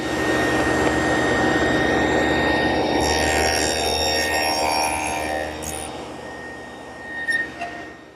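Power tool cutting a rabbet into a tiger maple drawer front, a loud sustained whining roar with steady tones that rises briefly mid-cut, then drops off to a quieter tail with a few short knocks.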